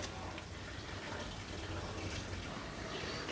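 A tap runs steadily while something is washed underneath it, giving a constant close splash and rush of water with no talking.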